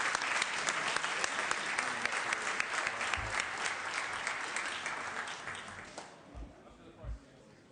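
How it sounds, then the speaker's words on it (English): A large crowd applauds steadily on the California Senate floor, a dense wash of clapping that slowly fades near the end. "let's give them again a big round of applause."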